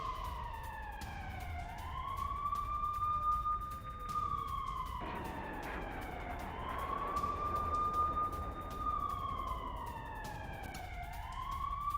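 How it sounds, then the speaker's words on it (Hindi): Air raid sirens wail over Jerusalem after a missile attack, a steady loud tone rising and falling in long, slow cycles with no voices over it. "जेरूशलेम में मिसाइल अटैक के बाद ये सायरन बज रहे हैं।"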